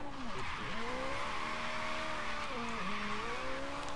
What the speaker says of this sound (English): drifting through the gates, going backwards